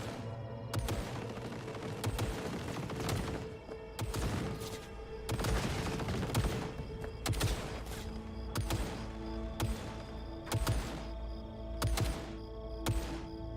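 An automated friendly turret in Cyberpunk 2077 fires repeated sharp bursts, loud and close, with short gaps between volleys and a steady hum of game music underneath.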